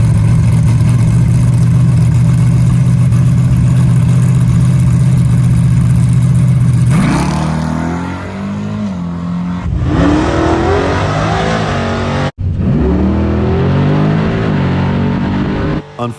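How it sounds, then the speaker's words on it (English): Drag race car staging for a nitrous pass, a loud, close engine idling with a deep steady drone, then revving and launching with rising, surging engine roar before a brief break and another hard pull. "So now it's time to go up and make my first nitrous pass."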